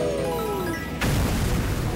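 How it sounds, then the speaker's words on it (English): A video-game explosion in Super Mario Galaxy: a descending whistle gives way to a sudden loud boom that rumbles on with dense crackling debris, heard alone. "it's a good thing we made it out before that devastating explosion took our life away"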